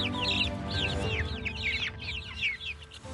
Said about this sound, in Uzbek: Umid Ro'ziyev ham dastlabki ishini 1000 ta jo'ja boqishdan boshladi